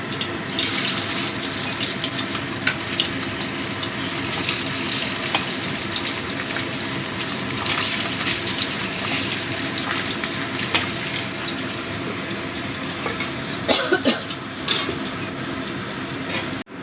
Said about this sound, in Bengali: একইভাবে আমি সব মাছগুলো ভেজে নেব